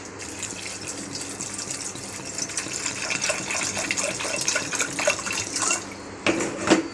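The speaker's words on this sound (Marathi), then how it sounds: "पाणी घालते मी." Water pours into a bowl of chana dal to soak it, making a continuous splashing gush for about six seconds. After a brief pause there is a final burst of pouring, with no one talking.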